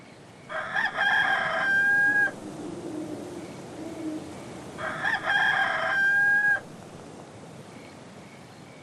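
Wild rooster in the adventure game Haunted crowing twice, each a long, loud cock-a-doodle-doo a few seconds apart, close and distinct over a quiet hissing background with a soft low murmur between.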